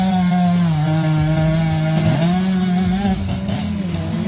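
A two-stroke chainsaw cuts through logs at a lumberjack competition, a loud, steady, buzzing engine whine that dips and bogs as the chain bites into the wood, close and continuous with no talking.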